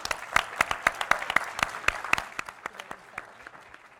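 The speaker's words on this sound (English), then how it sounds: "a round of applause to your parents as well" A small group claps with distinct, separate hand claps, brisk at first and then thinning and fading over a few seconds.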